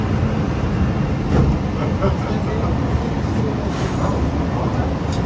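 An airport shuttle train in San Antonio rumbles steadily as it pulls away, with a voice speaking over the low hum of the carriage.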